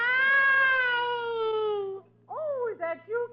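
A voice imitates a cat in an old-time radio comedy, drawing out one long, wavering meow and then adding a couple of short, choppy mews, loud and close.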